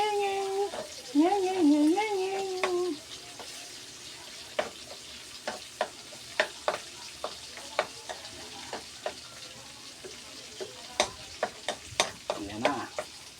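Garlic fries and is stirred in a pan for a pork and bitter melon dish, with steady sizzling and repeated scraping stirs. A voice talks near the start.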